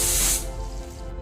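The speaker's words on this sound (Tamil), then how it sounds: "கிட்டத்தட்ட 5 விசில் வர வரைக்கும் நம்ம வந்து வெயிட் பண்ணலாம்." Pressure cooker whistle releasing steam while cooking sweet pongal, a loud close hiss that is strongest at first and then eases into a softer rushing tail.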